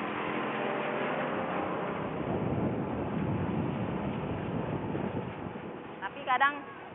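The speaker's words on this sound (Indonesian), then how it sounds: "ia juga harus kuat menahan tiupan angin" Wind blows at a boat's steering position, a steady rushing, buffeting roar with a low hum underneath. A brief voice cuts in near the end.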